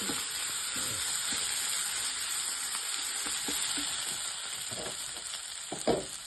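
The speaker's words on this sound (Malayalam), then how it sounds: "ഈ തേങ്ങ ചതച്ചത് അതുകൂടി ഇട്ട് കൊടുക്കാം ഇത് നന്നായിട്ട് തേങ്ങ ഇട്ടതിന് ശേഷം മൂപ്പിച്ചെടുക്കാം" Crushed coconut frying in a hot masala gives a loud, steady sizzle, with occasional stirring scrapes and pops, close up and without any talking.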